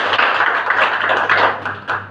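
Audience applause, a dense, steady patter of many hands clapping together for about two seconds, close and loud, with no voices over it.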